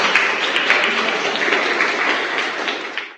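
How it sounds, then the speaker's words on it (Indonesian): Classroom students clapping together in a cooperative learning lesson, a close, steady burst of applause that holds evenly and stops abruptly. "tepuk tangan untuk"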